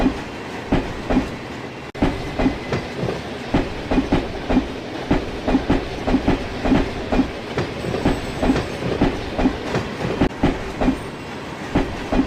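A heavily loaded tank engine labours out of a station with its wheels slipping, giving loud, rapid, evenly spaced chuffing beats that carry on without a break, close by and with no voices.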